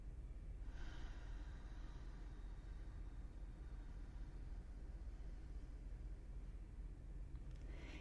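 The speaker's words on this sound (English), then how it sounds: "Exhale." A long, slow exhale during a guided breathing exercise, heard as a faint, steady breathy hiss that holds for about seven seconds with no talking.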